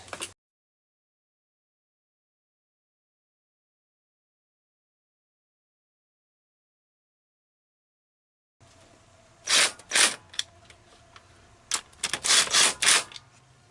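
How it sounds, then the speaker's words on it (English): Bolts are loosened on a 2003 Honda Civic engine during a head gasket replacement. A long silence gives way to close, sharp, ratchet-like clicks and taps in quick irregular clusters. "We loosen these up again."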